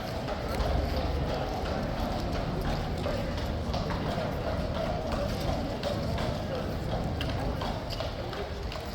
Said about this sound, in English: Let's see which two horses are coming through the tunnel.